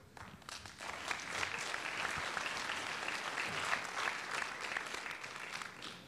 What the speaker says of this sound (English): I rarely get applause when I come to places